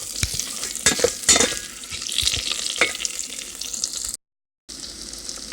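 Chopped potatoes fry in butter in an Instant Pot on sauté, a steady close sizzle broken by scraping stirs and clatters of the utensil, with a brief dropout near the end and no voices.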